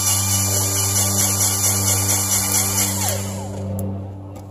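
An 18-volt battery-powered Lube Shuttle grease gun runs with a steady motor whine and hum, holding an even pitch throughout before tapering slightly near the end.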